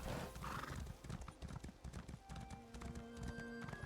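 A horse gallops in The Elder Scrolls Online with quick, rhythmic hoofbeats, and a whinny comes early on. The pace stays steady and fairly loud, with faint sustained tones joining near the end.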